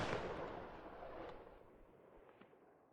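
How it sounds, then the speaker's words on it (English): A Timberwolf rifle fires once in the video game Squad, a single faint, muffled blast whose long rumbling echo fades away over a few seconds. "here's the Timberwolf, and once I fire it"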